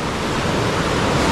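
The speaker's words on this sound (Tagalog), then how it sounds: "pero patuloy pa rin yung paglaki ng tubig" Floodwater rushes after heavy rain, a loud, dense, continuous roar of churning water close by, with no voices.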